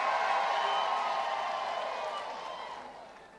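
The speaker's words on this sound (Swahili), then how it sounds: "Na simu pigie Mama Kawera pia makofi." Applause breaks out from an audience for Mama Kawera at a public gathering where President William Ruto is also praised. It is a loud, dense wash of clapping and crowd noise that slowly fades over a few seconds.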